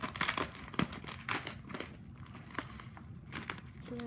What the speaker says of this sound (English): Just cut through the tape.